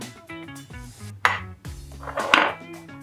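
Cream is mixed with chocolate in a bowl, giving close clinks and scrapes of a utensil against the bowl in a quick, uneven rhythm.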